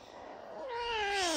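A hungry jaguar cub cries with a single rising, drawn-out wail that swells louder toward the end, heard up close and alone.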